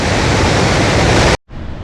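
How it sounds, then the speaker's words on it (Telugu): Loud, steady broadband roar of water rushing through the seven opened gates of the Srisailam dam, constant and close, cutting out abruptly near the end and resuming at lower level. "మొత్తం 7 గేట్లు తీసారు. వాటర్ చూడండి."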